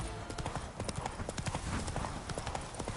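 Roach, a horse in The Witcher 3, gallops with rapid, steady clip-clop hoofbeats that sit up close and loud, a driving rhythm running the whole way through with a dense game soundscape underneath.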